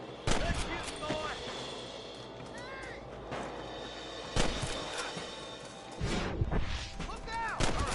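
Gunfire rings out in the Western video game Red Dead Redemption, loud sharp shots and bursts spread across the scene amid ambient sounds.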